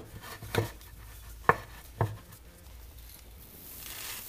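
Dry rice scooped by the cupful for homemade rice socks, giving three soft, brief grainy scrapes and pours spaced about a second apart, close and quiet, with no one talking.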